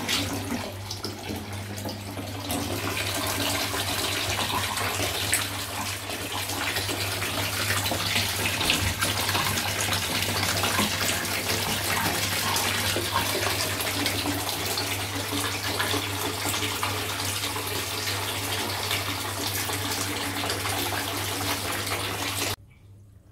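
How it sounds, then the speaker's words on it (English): Water flows and gushes steadily through a DIY biopellet carbon reactor in an aquarium setup, a continuous close splashing rush that cuts off abruptly at the end. "Water is coming in from the right, going to the pipe down at the reactor."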